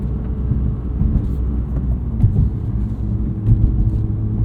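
Deep, rumbling exhaust of a 2021 BMW M2 Competition with six-speed manual, heard from inside the car, a steady low drone with occasional surges in throttle.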